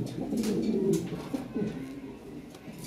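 Fancy pigeons kept for sale, breeding pairs among them, cooing steadily in soft low murmurs, close by and without talk.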